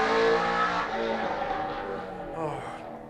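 A NASCAR Falcon race car driven by Jamie Chant revs loudly at a historic Leyburn sprint meeting, its engine note rising and falling steadily over three seconds with a brief higher whine near the end.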